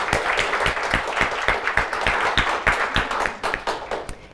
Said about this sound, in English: I think we should start by giving a huge round of applause to the organizers.